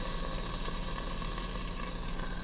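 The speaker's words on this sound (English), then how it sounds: "That is sizzling." Pork chops sizzle loudly in a covered pan on the stove, a dense, continuous frying hiss and crackle that stays close and unbroken, with no voices.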